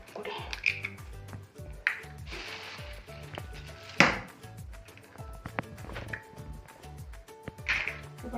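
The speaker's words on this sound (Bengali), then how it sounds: "এবার ডিমগুলো ফাটিয়ে দেবো এক এক করে।" Eggs cracked one by one for egg and semolina pakora, giving several sharp, separate cracks and taps against a bowl in a quiet kitchen.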